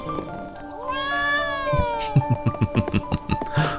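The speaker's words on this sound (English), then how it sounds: "Well, good day to you too, Mr. Kitty" A cat in the video game Trials of Mana gives a drawn-out meow, followed by game background music with a rhythmic beat.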